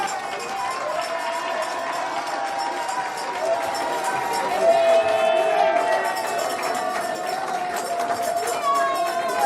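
A lecture-hall audience cheers and claps to welcome an honoured guest speaker at a pan-African award event, a sustained dense crowd roar with whoops rising midway, loud and close.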